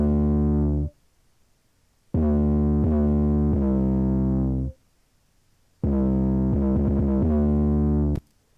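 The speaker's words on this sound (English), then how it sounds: "So this is my 808. I'm gonna play it for you right now without any effects." A deep 808 bass with slight distortion plays in long sustained notes, some sliding in pitch, separated by short silences.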